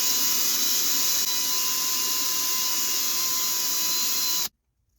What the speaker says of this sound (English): I'm going to get a drill bit, which is almost the same size, and just pass it little by little